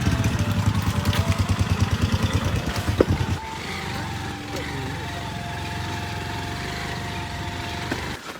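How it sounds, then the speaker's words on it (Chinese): Motorcycle engines rumble steadily at close range, then cut to a quieter idling hum with distant engine noise. "今天来了那么多摩托车"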